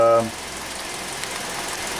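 A Hyundai Elantra engine runs with a misfire, giving a steady, moderately quiet mechanical drone close to the microphone for the whole stretch. A brief tonal sound opens it before the engine settles in alone.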